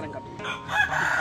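A rooster crows loudly and close by at a busy chicken market in Larangan, Pamekasan, one drawn-out call heard over faint market murmur.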